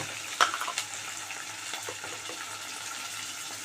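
Curry leaves hit hot oil while okra fry is being cooked. A sharp crackle bursts out at first, then settles into a low, steady sizzle.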